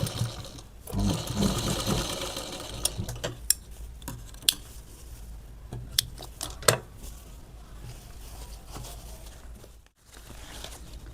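A sewing machine stitches fabric for a samai aasan in short, close bursts of rapid mechanical whirring, broken by pauses and sharp clicks from handling the cloth.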